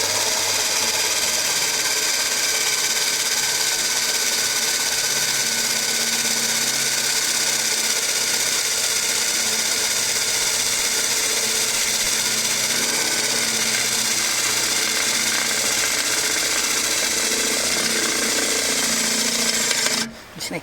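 A Hanson power drill bores a 1/4-inch hole into a snowblower, running as a steady, loud, continuous whine and grind for about twenty seconds before cutting off at the end.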